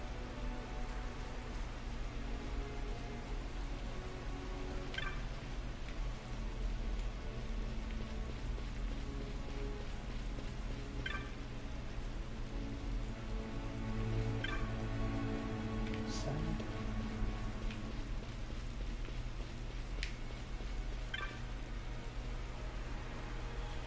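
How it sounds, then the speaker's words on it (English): Steady rain falls in Final Fantasy XII: The Zodiac Age as a continuous wash of drops, with a low game ambience beneath and faint voices in the background. "This rain."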